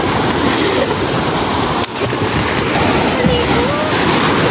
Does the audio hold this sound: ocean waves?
yes